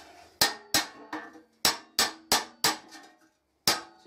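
Hammer striking metal, likely while bending a piece for a bird nesting box, as eight sharp ringing clangs in an uneven rhythm, each decaying quickly, close and loud with no voices.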